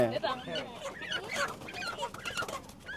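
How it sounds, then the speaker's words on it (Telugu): Chickens cluck at a large family compound in rural Uganda, short bird calls scattered through the clip under and between nearby talk. "కోళ్ళు ఉన్నాయి"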